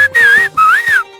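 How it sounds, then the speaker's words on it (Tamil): A man whistles two short, loud, wavering tones close by, each lasting under half a second with a brief gap between them. "எதுக்கு அங்கே பம்மி விசில் அடிச்சுக்கிட்டு இருக்கான்?"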